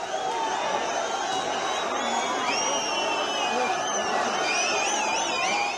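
A protest crowd is dispersed by police using lathi charges and water cannons: a dense, continuous roar of shouting voices with shrill, rising whistle-like or siren-like tones cutting through the noise.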